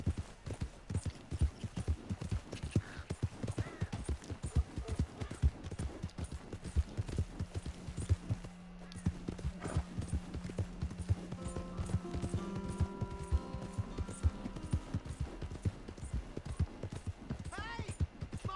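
Rhythmic clip-clop of horse hooves trotting steadily throughout in the video game Red Dead Redemption 2, fairly faint, with a brief low neigh partway through and some talking over it.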